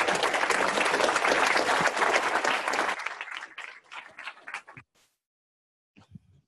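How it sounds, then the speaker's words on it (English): An audience applauds a speaker at an engineering career talk. The clapping is loud and dense for about three seconds, then thins into scattered claps and stops, leaving near silence with a couple of faint knocks. "I think we should give him a round of applause."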